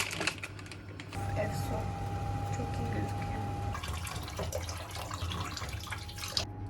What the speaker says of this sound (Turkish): Fasulyemizi yıkadık.